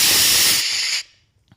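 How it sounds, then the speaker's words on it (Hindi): Steam hisses loudly and continuously from a pressure cooker on a gas stove, then cuts off abruptly after about a second, leaving near silence with a faint click. "इसमें सीटी आने वाली है"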